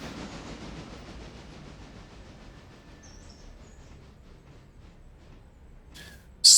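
Train rolling along track in the Railroader railway game, a soft steady rumble with faint rhythmic clicking, fairly quiet and alone, ending in a sudden brief loud burst.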